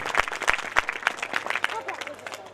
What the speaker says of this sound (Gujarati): એવી દિવ્યાબેન ઠાકોરને એકવાર જોરદાર તાળીથી વધાવી લઈએ.